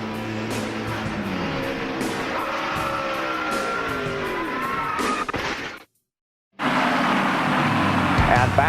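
Loud in-car engine sound from Ricky Rudd's race car on a dirty, slick track, a steady roar with rising and falling pitch as it shifts and changes speed, cutting out abruptly for about a second before resuming.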